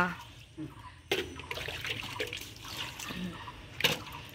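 A soft, overripe jackfruit is rinsed with water: splashing and trickling with a couple of sharp, close splashes. Faint background noise sits under the washing.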